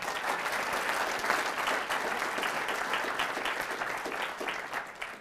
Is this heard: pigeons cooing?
no